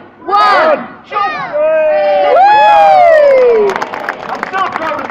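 A crowd at Flamingo Land cheers and shouts loudly as a sea lion dives. Children's voices rise into a sustained, excited roar, and scattered claps follow as it fades.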